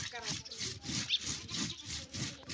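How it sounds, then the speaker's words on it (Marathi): Chili is ground by hand on a traditional flat grinding stone with a stone roller, making a continuous gritty rubbing and scraping in repeated strokes. A voice is faintly present underneath. "मिरची चांगली वाटून घ्यायची आपल्याला"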